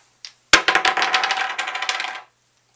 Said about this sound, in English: You'll hear an extra rattle sometimes when they hit the table.